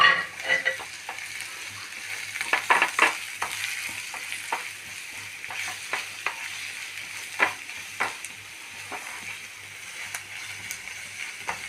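Egg thoran with coriander powder and chilli powder is mixed in a pan, with a soft frying sizzle under repeated spoon scrapes and clinks that come in irregular bursts close to the mic.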